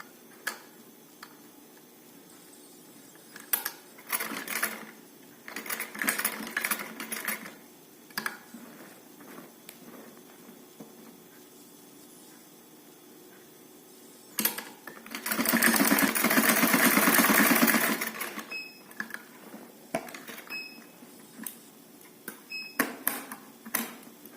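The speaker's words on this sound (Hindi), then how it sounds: "इस तरह से एक बार का मार्जिन देते हुए इसके ऊपर सिलाई लगाएंगे" A sewing machine stitching fabric piping around a neck design, running in short quick bursts with pauses, then one longer loud continuous run, with faint ticks and clicks in between.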